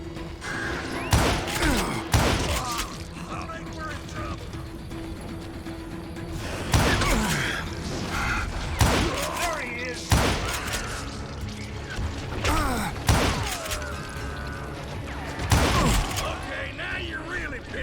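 Sharp, loud gunshots ring out in irregular volleys in the Wild West shooter Call of Juarez Gunslinger, each crack followed by a short echo, with mechanical clatter and game music filling the gaps.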